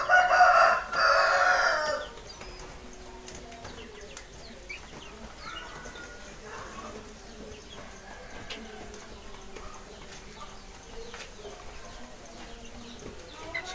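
A chicken with a cold and snoring breath calls out loudly for about two seconds while being dosed with drops, then only faint clucks and small handling noises follow.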